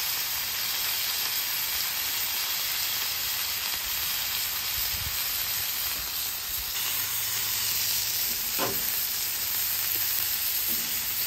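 A smash burger patty topped with onion sizzles loudly and continuously on a hot griddle, a close, even hiss with a few faint scrapes.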